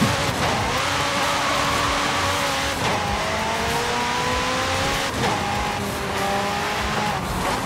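A Lamborghini in a racing video game downshifts through five gears, its engine pitch stepping up and falling repeatedly alongside tire squeal, loud and steady with no voices.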